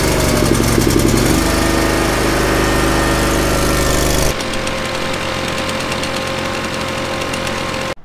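A lawn care equipment engine runs loud and rough with a steady knocking chug. About halfway through it settles to a quieter, smoother idle, then cuts off abruptly at the very end.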